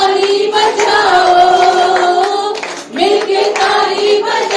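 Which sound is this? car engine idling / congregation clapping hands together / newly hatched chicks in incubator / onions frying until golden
congregation clapping hands together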